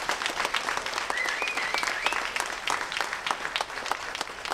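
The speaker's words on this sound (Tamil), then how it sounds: "ரொம்ப ஓங்கி அடிங்க அவங்களுக்கு கரகோஷத்தை" Audience applause fills a cinema hall after a short film pilot screening at Sathyam Cinemas, a dense, steady wash of many hands clapping close and loud for the whole stretch.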